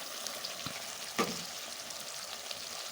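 Beef frying in a pan with soy sauce for a pepper stir-fry, a steady broadband sizzle with one brief louder hiss as the meat goes in, then an even crackle throughout.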